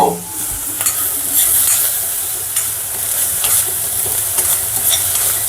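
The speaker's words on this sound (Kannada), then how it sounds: "ಇದನ್ನು ಫ್ರೈ ಆಗಬೇಕು." Vegetables, including peas, fry in a pan for a mushroom tomato bath dish. A loud, steady close-up sizzle runs throughout with repeated stirring scrapes and a sharp burst at the start, and no voices.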